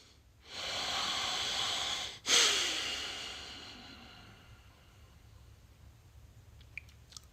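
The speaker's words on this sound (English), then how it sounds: "let's get a little breath" A slow, deep breath is taken during a meditation: a quiet, close inhale of about a second and a half, then a longer, fading exhale, with silence around it.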